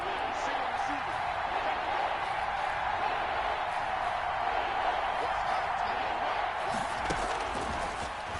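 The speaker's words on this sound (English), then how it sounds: "the crowd getting into it as we come up on a big 3rd down" Stadium crowd at a Jacksonville vs. Pittsburgh football game cheering ahead of a big third down, a steady, dense roar that holds at an even level throughout.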